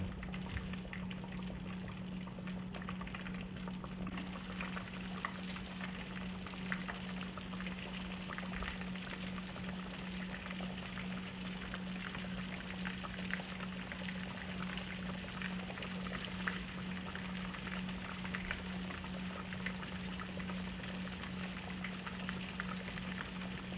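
Pork chops fry in grease in a big pan over a wood fire, a steady close sizzle and crackle that stays constant throughout with no talk.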